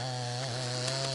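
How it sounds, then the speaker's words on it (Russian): A chainsaw cuts a hole through river ice to draw water for a bathhouse at a remote taiga cabin, its engine droning steadily and loudly throughout, with a slight dip in pitch midway. "пилит майну для бани"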